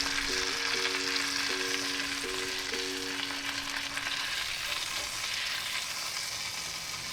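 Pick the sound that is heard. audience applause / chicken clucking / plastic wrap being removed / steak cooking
steak cooking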